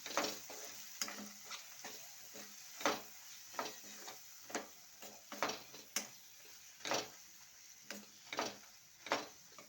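Thick egg-gravy spice paste with coriander powder sizzling and spattering in a pan while a spoon repeatedly scrapes and stirs it in a steady, rhythmic pattern; close and fairly quiet.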